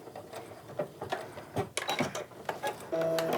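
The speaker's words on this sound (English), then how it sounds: "keep on sewing all the way to the end" A sewing machine stitches along a tote bag seam in quick mechanical bursts of whirring and clicking, stopping and starting, then settling into a steady hum at the end. Close and clear, with no voices.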